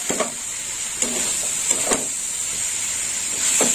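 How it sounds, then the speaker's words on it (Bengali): Salted snake gourd frying in a pan with a constant high hiss of oil, broken by three or four spatula scrapes and stirs. "এখনো চিচিঙ্গেটা ভাজা হবে"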